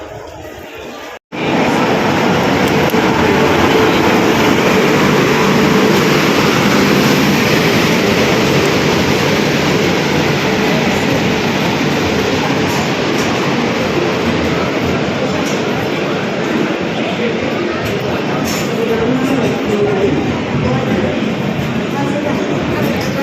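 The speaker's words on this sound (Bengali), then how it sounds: "আমাদের ট্রেন এই ঢুকে পড়লো।" A passenger train pulls into platform 4 of an Indian railway station on the Bhopal–Vadodara route, its loud, continuous rumbling roar of wheels and carriages filling the air close by for over twenty seconds after a sudden start.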